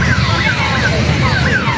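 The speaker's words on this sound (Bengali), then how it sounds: "দেখো ইয়ার সাথে সাইরেনটা কোথায় বাজছে" At a busy fair, a siren wails in repeated rising and falling sweeps. It is steady and fairly loud over a dense murmur of crowd noise.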